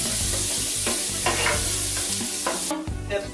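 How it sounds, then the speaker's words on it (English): Onions fry loudly in a pan as they are stirred, with a thick constant sizzle and repeated scraping strokes of a utensil at a quick, uneven rhythm. "We're going to stir these onions until they become a little translucent."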